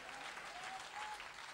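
Church congregation applauding the Lord during a French-language sermon, a faint, even crowd clapping lasting over a second with a thin sustained tone faintly above it.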